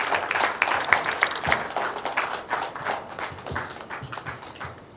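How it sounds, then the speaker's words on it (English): An audience at a company event gives a round of applause following the CEO's presentation, with a dense, loud burst of clapping that holds steady and slowly tapers over about five seconds. "Please, another big round of applause for you."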